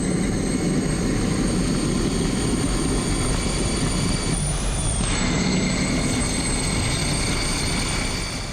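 A jet-powered go-kart's afterburner gives a deep, continuous roar at close range, loud and unbroken, with a slight shift in pitch partway through.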